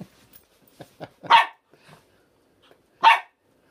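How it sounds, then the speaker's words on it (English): A small Jack Russell–Chihuahua mix barks at its chew toy indoors, with two sharp, close yaps about two seconds apart and faint snuffling and shuffling between them. "You barking at your chew?"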